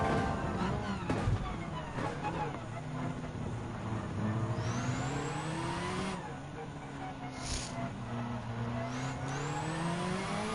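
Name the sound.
rally car engine shifting to high gear in video game Gran Turismo 7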